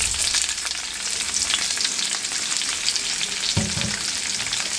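Chopped onions sizzle and fry steadily in a hot pan, a dense continuous crackle close up with a brief stir or clatter near the end.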